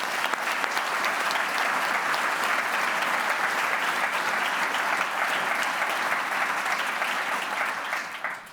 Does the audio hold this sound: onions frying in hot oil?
no